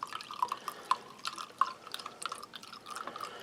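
Cold water poured into a U.S. Army kosher MRE pouch of chicken with rice, heard as a close, quiet run of irregular splashy drips and trickles.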